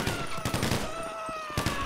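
Gunfire in GTA 5 with a zombie mod, several sharp shots in quick succession, loud and close, with a sustained ringing tone underneath.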